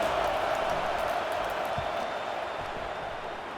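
A home stadium crowd in College Football 25 roars in a dense, steady wash of cheering and noise that fades slightly toward the end, loud and continuous with no distinct voices.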